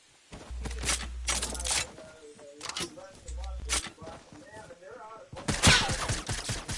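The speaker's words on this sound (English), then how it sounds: "Someone shooting at us." Several bursts of gunfire in Fortnite, with sharp shots clustered in short volleys and separated by gaps, heard amid game sound effects and occasional clicks.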